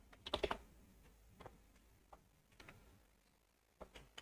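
Sparse computer keyboard typing while entering a voltage label during an ASUS phone dead-board repair, with a quick cluster of clicks near the start, then scattered single taps, quiet and close with no talking.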